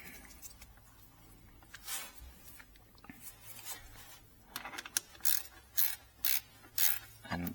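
Tightening the clamp where an Akrapovic titanium slip-on joins the link pipe on a BMW R NineT Racer: soft fiddling, then a series of crisp ratcheting clicks in short regular bursts, close and fairly quiet, no talking.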